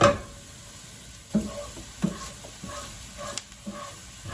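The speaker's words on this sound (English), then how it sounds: "So you saute that for about a minute." Flour mixture for lentil stroganoff sautéing in a pan, with a soft steady sizzle and a few louder scraping stirs of a utensil at irregular intervals, close by and with no talking.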